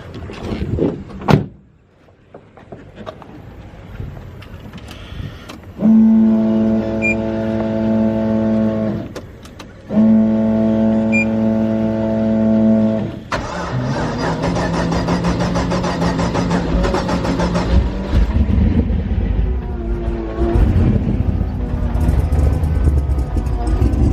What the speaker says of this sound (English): I love those E85 cold starts.